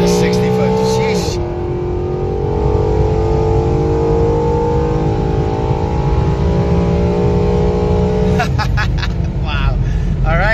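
A 2013 Mustang GT with the 6R80 automatic launches hard on a hot day at the drag strip, its engine note climbing steadily through the gears, with a loud, close roar and a clear shift before it winds up again.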